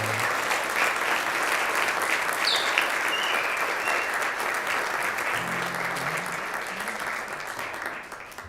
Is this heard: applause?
yes